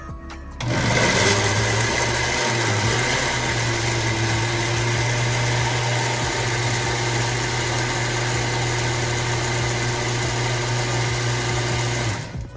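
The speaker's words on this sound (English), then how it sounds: "Turn the blender on." A blender on medium speed whirs steadily at a constant pitch for several seconds, blending green plantain porridge, starting abruptly and cutting off at the end.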